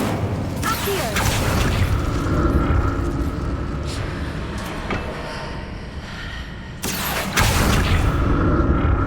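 Whooshing magical summoning effect of the Accio spell in Hogwarts Legacy, a swelling mechanical rush over steady rumbling ambience, with two sharp surges several seconds apart.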